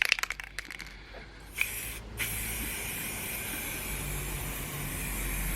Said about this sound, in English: And get spraying these.